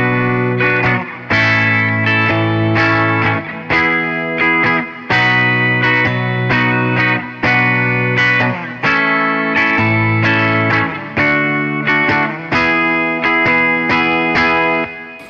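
Electric guitar plays the chorus of a song: loud, distorted, sustaining chords strummed in a steady repeating rhythm, with no voice over it.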